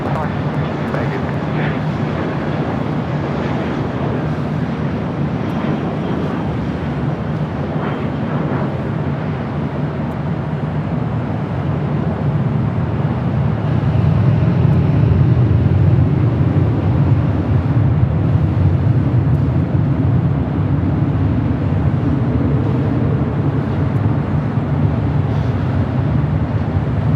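A Southwest Airlines jet rolls down runway 24 at LAX bound for Santa Barbara, its engines a broad, steady roar that swells and grows louder partway through, with wind buffeting and a voice talking over it.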